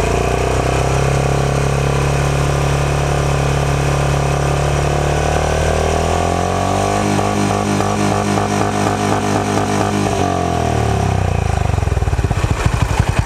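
A Royal Enfield Classic 350 or Honda Highness CB350 single-cylinder motorcycle engine rising from a loud idle into a strained, sustained rev toward 6000 rpm, then dropping back to a choppy, pulsing idle.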